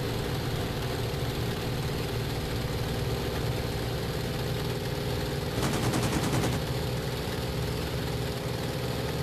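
A Spitfire XIVc fires its aircraft machine guns in the IL-2 1946 flight combat game, a short rapid rattling burst cutting through the loud, steady drone of the engine.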